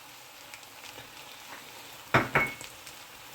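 Pork fry with cumin powder, pepper powder and garam masala sautéing in a pan, a steady soft sizzle with two louder stirring bursts near the end.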